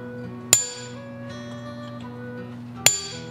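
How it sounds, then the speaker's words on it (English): Two sharp, ringing metallic strikes spaced a few seconds apart as a hot chisel is hammered to cut veining into forged steel, each clang decaying slowly over a low steady hum. "Now what I'm gonna do is just take the hot chisel and just put a little bit of veining in there."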